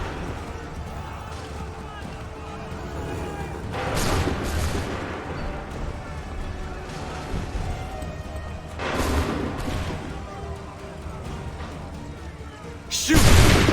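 Musket volleys in the Assassin's Creed Rogue game, heavy booming bursts of gunfire at about four, nine and thirteen seconds. Each rises out of a murmur of battle noise, and shouted orders are heard between them.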